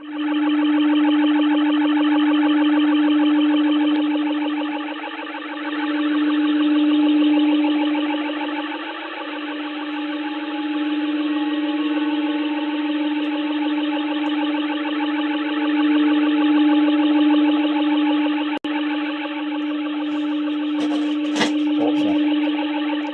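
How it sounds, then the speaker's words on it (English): Radio jammer tuned in lower sideband mode on a live radio stream: a continuous, loud buzzing warble with a steady low drone and layered pulsing tones, running unbroken throughout, with a few brief clicks and crackles near the end. "You can hear the jammer better when you put it in single sideband mode."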